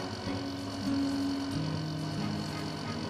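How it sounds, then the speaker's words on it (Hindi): A second-hand air conditioner in a village home starts up and settles into a steady low electrical hum with a faint whirring drone. "एसी थोड़ी आवाज करते हुए चालू हो जाता है"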